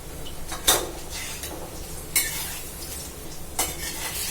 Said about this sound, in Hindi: मैं पकौड़ी चला देती हूँ।